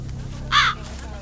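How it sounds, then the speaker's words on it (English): A single sharp crow caw, loud and near, cuts through a quiet, low-humming background in a horror story setting. "A lone crow cawed, sharp and hollow"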